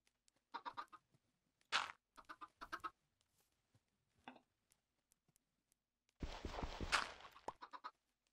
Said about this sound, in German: Dummes Huhn, komm her.